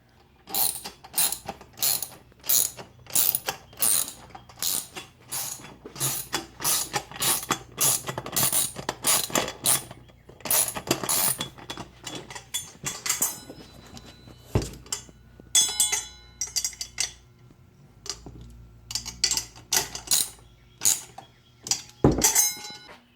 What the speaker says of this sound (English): we're going to put the nuts on and then tighten it up